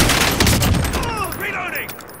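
Dense, close gunfire in Call of Duty Modern Warfare, a rapid overlapping volley that tails off into fainter shots and game noise over about two seconds.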